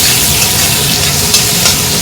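Fish head frying with cumin, coriander, turmeric and Kashmiri chili powder while being stirred, a loud close sizzle with scraping stirs, brief and continuous.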